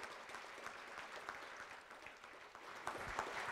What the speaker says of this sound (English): Now you may clap